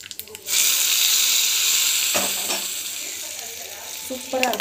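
Chutney mixture poured into a hot pan for a pregnancy diet recipe sizzles loudly and steadily after a brief stir, the hiss slowly easing while a few faint clinks land near the end.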